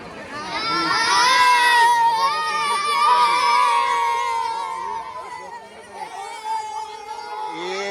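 A lively crowd shouts and cheers at a Hanuman Jayanti festival in Kondripada, voices rising loud near the start and then thinning into scattered calls and chatter.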